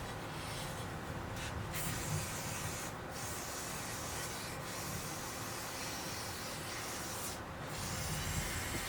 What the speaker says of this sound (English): spray gun cleaner to make sure you get it all off of there